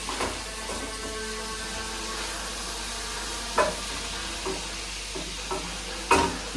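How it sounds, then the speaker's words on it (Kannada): Cinnamon and cloves fry in a little oil for mutton keema, a steady close sizzle broken by a few sharp stirring clinks and scrapes in the pan, with no talking. "ಸ್ವಲ್ಪ ಫ್ರೈ ಆಗಲಿ, ಎಣ್ಣೆ ಕಮ್ಮಿ ಇದೆ."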